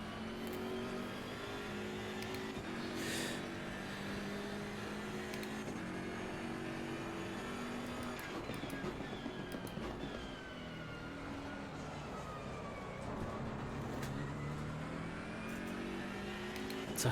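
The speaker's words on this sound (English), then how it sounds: "You can hear traction control hating me as I flatten the throttle" Race car engine in the Assetto Corsa Competizione racing game, held at full throttle while traction control cuts in, producing continuous loud revving with wavering, stuttering pitch, with no talking.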